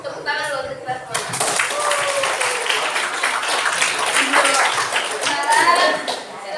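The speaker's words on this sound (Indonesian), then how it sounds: "Tepuk tangan dulu untuk kita semua" A classroom group claps hands together at the end of a sword dance lesson, a steady burst of applause lasting several seconds, with voices talking over it near the start and end.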